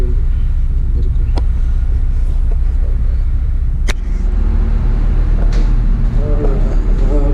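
Machinery in a ship's engine room gives off a loud, constant low rumble and drone close by, with occasional metallic clicks and brief knocks over the steady mechanical bed.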